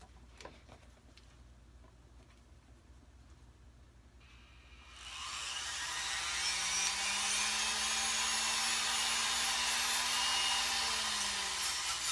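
A Dremel rotary tool fitted with a small sanding disc grinds against an olive fork, starting up after a quiet stretch of light handling and then holding a loud, steady high-pitched whirring rasp up close with a slight pitch sag.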